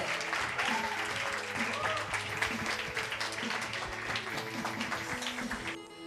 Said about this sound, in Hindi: तालियां तालियां और जोर से